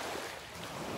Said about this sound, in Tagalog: yung hampas ng alon, na maliliit na alon dito sa Dalampasigan